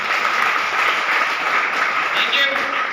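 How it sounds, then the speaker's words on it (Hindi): Audience applause for Rinku sir at a Safe Shop business meeting, a steady loud wash of many hands clapping together that fills the whole stretch, with faint voices mixed underneath. "रिंकू सर के लिए जोरदार तालियां होनी चाहिए"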